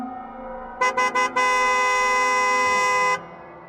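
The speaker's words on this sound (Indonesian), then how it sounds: "suara klakson membuat Pak Dedi kaget." A truck horn blares loud and close: three short toots in quick succession, then one long sustained blast lasting about two seconds before cutting off, over a quiet background.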